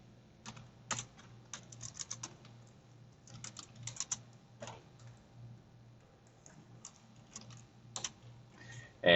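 Fingers tap out a search query on a computer keyboard in a quiet room, a quick irregular run of light clicks in short bursts over a steady low hum, with no voices.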